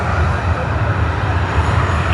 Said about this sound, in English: They have begun their takeoff roll.